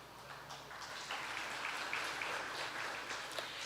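An audience at the Choctaw Nation Princess Pageant claps in a steady, moderately distant patter that swells slightly midway and continues throughout without voices over it.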